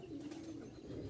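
Pigeons coo at a Karachi pigeon-keeping loft, a steady low throaty murmur running through the whole moment at close range with no talk over it.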